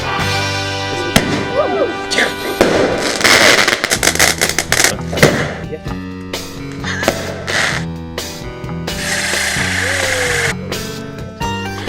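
Fireworks on bonfire night, with rockets whistling up and a series of sharp bangs and crackles, loud and close, while people talk and shout around them.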